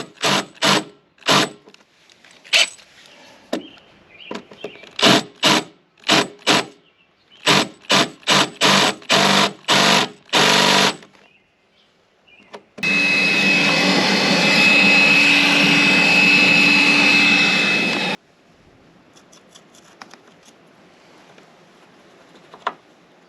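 A big drill bit widening holes for door struts, with a series of short, loud drilling bursts in quick succession, followed by a long steady mechanical whir and then quiet handling noise.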